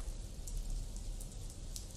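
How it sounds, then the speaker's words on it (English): Rain falling in the video game Candlelight: Lament, a dense, steady hiss of drops with faint brighter spatters scattered over the continuous wash, heard alone without talking. "The rain dampens your hair,"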